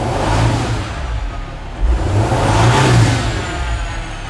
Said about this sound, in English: I'm gonna rev up the engine.